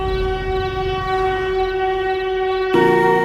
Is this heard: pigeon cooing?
no